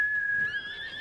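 A horse in a video game gives a short, thin whinny, one high wavering call lasting about a second, fairly faint against a quiet background.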